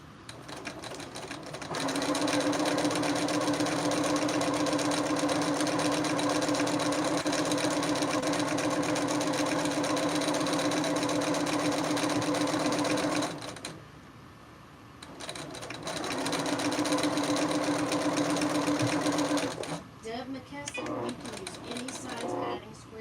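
A home sewing machine back tacking while quilting scraps, running loud and steady for about eleven seconds, pausing briefly, then running again in a shorter burst before stopping, heard close up.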